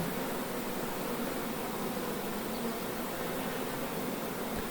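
A steady, dense buzzing of a honey bee swarm at a hive hums continuously at moderate level, with no voices and no change in intensity.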